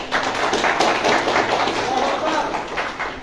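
Audience applause at an Islamic lecture hall, a dense steady patter of many hands clapping throughout, fairly close and loud.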